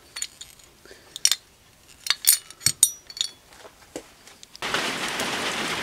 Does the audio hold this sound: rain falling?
yes